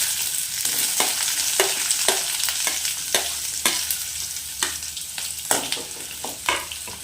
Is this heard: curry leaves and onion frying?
yes